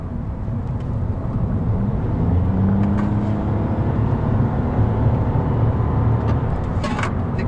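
A 2020 Toyota Yaris hybrid pulling away under acceleration, heard from inside the cabin as a steady low drone of engine and road noise that swells slightly, with no talk.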